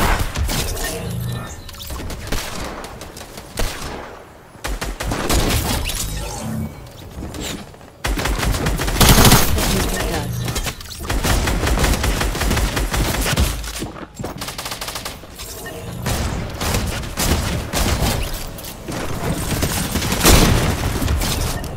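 Rapid bursts of automatic gunfire and single shots crackle loudly through a Fortnite match, nearly continuous with brief pauses, with impacts and crashes mixed in.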